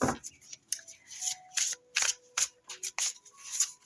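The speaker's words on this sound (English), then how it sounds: "Let's pull a few more cards" Tarot cards being shuffled and drawn close up, a quick irregular run of crisp riffles, flicks and slaps with short pauses between.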